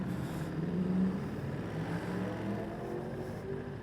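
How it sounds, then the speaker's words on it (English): Cooling fans whir steadily on a 2023 Ducati Monster motorcycle idling warm in traffic, a faint continuous hum under a low engine note and passing road noise; no talking. "sat in traffic, getting a little bit warm, fans coming on"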